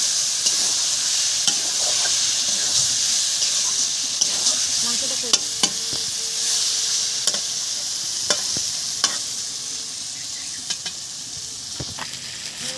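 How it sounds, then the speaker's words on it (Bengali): Potatoes frying in a pan while being stirred and mixed for a chicken dish, giving a steady close sizzle with scraping spoon strokes and light clicks against the pan, with no talk. "তারপর আমি এখানে দিয়ে দিতেছি আলু, আলুটারে ভালো করে মিক্স করে লাইতেছি।"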